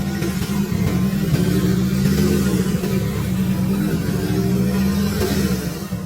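A rebuilt SR600 engine runs steadily after repair of oil pump chain slap and bearing damage, giving a loud, even, continuous drone with a smooth rhythm throughout and no voices.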